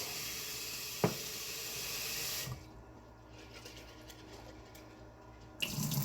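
Tap water runs steadily over sprouts being rinsed in a sink, a soft close hiss with a brief knock early on, then quieter flow before the stream picks up again at the end.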